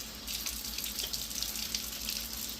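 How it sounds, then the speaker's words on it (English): Tap water runs steadily into a kitchen sink during hand washing, a continuous close hiss with no talking. "Wash my hands."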